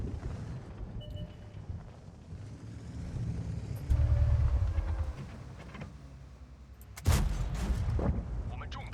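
Tank cannon fire from a WZ-131 light tank in World of Tanks: two heavy booms, at about four and seven seconds, each with a rumbling tail over low engine drone.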